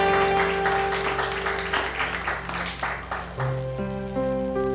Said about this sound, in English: Let us give a clap offering before the Lord.